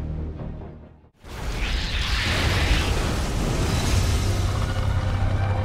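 In StarCraft II, an Eradicator is destroyed with a loud, sustained explosion that bursts in after a brief hush, then rumbles and roars steadily with a sweeping whoosh.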